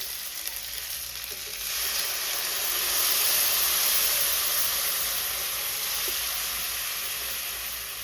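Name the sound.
ground masala paste poured into sizzling tempering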